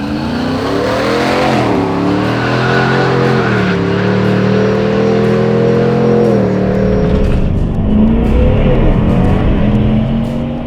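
Supercharged Chevrolet Silverado pickups, a stock LTZ and a modified Fury on factory 20-inch wheels, roar through a drag race, loud engine notes climbing and falling through gear changes before tailing off near the end.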